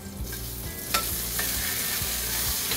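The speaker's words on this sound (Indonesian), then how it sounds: "Kita oseng-oseng sampai harum." Tomato and spices, including star anise, stir-fried in hot oil in a wok, with a steady sizzle and rhythmic scraping of the spatula, close and alone.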